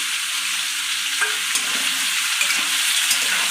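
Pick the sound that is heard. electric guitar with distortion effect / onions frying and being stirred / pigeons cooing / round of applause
onions frying and being stirred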